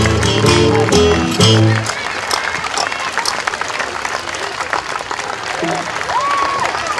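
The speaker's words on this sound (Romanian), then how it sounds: "Nu se va ridica decât dacă îl aplaudăm." A live crowd at an outdoor city festival show breaks into loud, sustained applause after a burst of music, clapping steadily and densely across the whole stretch with some cheering.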